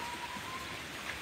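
Steady rain falls outside on a muddy farmyard, a soft, even hiss of drops heard faintly and continuously for a short moment, with no voices.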